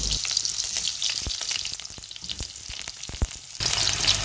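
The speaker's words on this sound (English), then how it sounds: "we added the oil to the pot, we allowed that to heat up, and now we're gonna add the sweet pepper, tomato, and the onions" Sweet pepper, tomato and onion sautéing in hot oil in a pot, a continuous loud frying sizzle with scattered utensil clicks, the sizzle swelling near the end.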